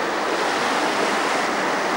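Floodwater rushes through a roadside ditch along the road between Cocentaina and Beniarrés, a loud, steady, broadband roar that does not let up, with no voices.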